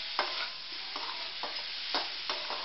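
Amla sabzi with sugar cooks in a pan, with soft frying sizzle under several brisk, evenly spaced scraping strokes of a spoon, close and moderately quiet.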